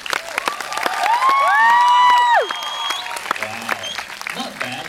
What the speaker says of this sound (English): Can we have a trial of your applause